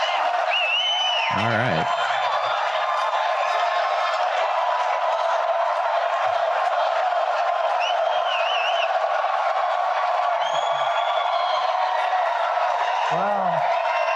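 A large crowd at a Trump event cheers and applauds in a steady, dense roar, with whoops rising over it and a brief spoken remark near the start.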